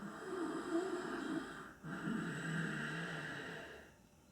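Deep, throaty nasal breathing from a yoga practice, with two long rasping breaths separated by a short pause, close and fairly loud before fading at the end.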